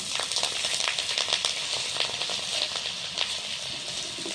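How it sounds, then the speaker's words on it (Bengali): Chopped green chilli and nigella seeds crackle in leftover fish-frying oil, a continuous bright sizzle with quick popping crackles, close and fairly quiet, with no voices. "মাছ ভাজার তেল ছিল ওর মধ্যেই আমি লঙ্কা কুচিটা দিয়ে দিচ্ছি আর কালো জিরে দিয়ে দিচ্ছি"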